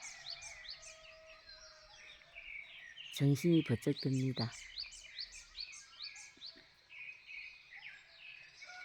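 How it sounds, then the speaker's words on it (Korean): Many birds chirp and sing in a lively, overlapping dawn chorus in the countryside before the fog lifts, with a brief spoken remark partway through. "정말 저 부지런한 새소리에 늦잠을 잘 수가 없을 정도로"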